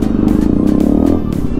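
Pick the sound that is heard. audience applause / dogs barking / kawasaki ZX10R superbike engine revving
kawasaki ZX10R superbike engine revving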